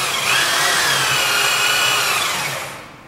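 A drill press runs loud and close, whining steadily as the bit cuts into the workpiece, then winds down and fades over the last half second.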